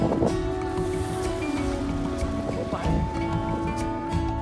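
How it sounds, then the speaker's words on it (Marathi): A boat motors out at sea through a narrow passage between rocks on both sides. A steady engine drone mixes with wind buffeting and splashing water, and voices talk over it throughout. "आपल्या दोन्ही साईडला रॉक आहेत आणि मधून आपली बोट जाते"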